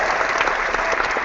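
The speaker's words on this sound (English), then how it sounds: "So hit that Round of applause button." A canned applause sound effect triggered from a button on a sports fantasy morning show gives a steady wash of crowd clapping, fairly loud and continuous.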